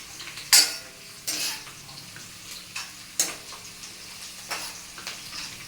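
Food fries gently in a pan under a soft background sizzle, broken by several sharp clinks and scrapes of a spoon against the pan as it is stirred.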